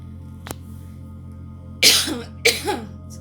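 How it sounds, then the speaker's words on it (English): A person coughs twice in a quiet indoor room, two short harsh bursts about half a second apart after a faint earlier click, close to the microphone with no talk. "So if I do cough a bit, I am sorry."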